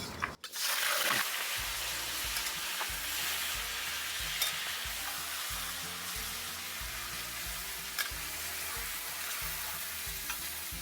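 Beef marinated in ginger and garlic sizzling and frying in hot oil in a pan for a shahi korma, a steady loud crackle with stirring scrapes throughout, no voices.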